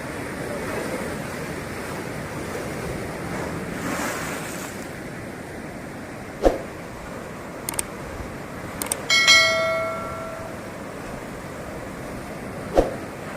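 Sea waves at Digha beach crash against a protective embankment, making a steady, broad surf roar with a few sharp knocks and a brief ringing tone partway through. No voices are heard.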